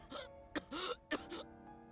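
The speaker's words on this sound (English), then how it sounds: "I heard Okita begin to cough." Okita, a character in the Hakuoki Kyoto Winds video game, gives three short, close, throaty coughs in a quick, uneven series, followed by a faint breathy trailing sound.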